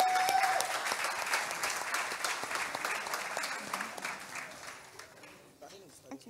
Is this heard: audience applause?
yes